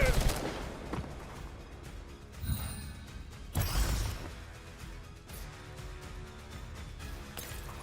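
Gunfire in the Girls' Frontline 2: Exilium video game comes as sharp shots and short bursts, loudest early and in two heavier clusters mid-clip, fading to quieter background game sounds.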